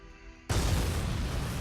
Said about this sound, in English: An explosion has occurred on board.